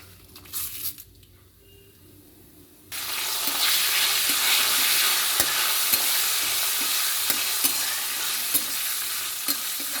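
Cumin, dried red chillies and a bay leaf hit hot mustard oil after a quiet start, then a loud, steady sizzle with light stirring scrapes carries on alone.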